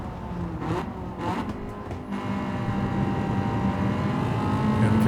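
Honda VTEC engine pulling at full throttle out of a corner at the Nürburgring, a loud, steady high-pitched drone that holds and slowly rises in intensity without pause.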